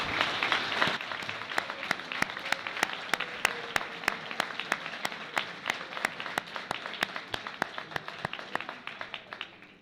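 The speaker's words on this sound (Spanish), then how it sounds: "Un fuerte aplauso para ellos." Applause at an award ceremony honoring a distinguished figure from El Bierzo, starting as broad clapping from the audience, then thinning into a single steady run of evenly spaced, crisp claps that carries on to the end.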